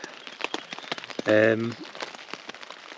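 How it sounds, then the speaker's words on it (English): Heavy thunderstorm rain on the Colorado Trail patters as a dense scatter of sharp drops, while someone briefly speaks over it. "We had to put up a wet tent in the absolutely pouring rain."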